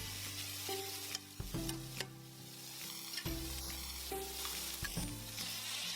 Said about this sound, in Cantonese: 再將頭先切成絲嘅材料逐樣加去鑊入邊，慢慢咁樣炒佢2、3分鐘